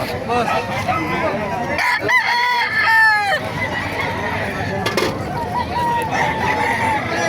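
Roosters crow nearby at a poultry market in Bocaue, a couple of rough cock-a-doodle-doo calls over a busy background with faint clucking.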